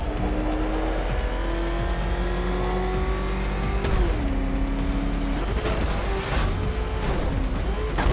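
Batmobile engine in the Batman Arkham Knight video game revving hard and continuously, loud and close, with rising and falling pitch as it accelerates and shifts, plus tire noise.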